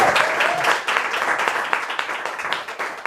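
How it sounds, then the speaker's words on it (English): Audience at a CavanKerry Press poetry salon at AWP applauds the first readers, a dense, steady wash of clapping that rises quickly and thins slightly toward the end. "So give a round of applause for the first 3 readers."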